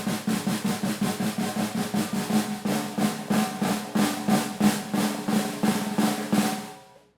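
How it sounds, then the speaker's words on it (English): A snare drum press roll played unevenly, its buzz strokes pulsing in a choppy, uneven rhythm rather than a smooth wash, steady in loudness for about seven seconds before cutting off. "Your press roll shouldn't sound like this."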